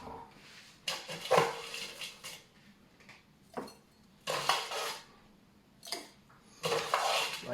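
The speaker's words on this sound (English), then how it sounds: "And we're gonna put some crushed ice." Crushed ice tumbling into a strawberry cocktail, heard as four separate bursts of rattling, clinking pours with short quiet gaps between them, close and fairly loud.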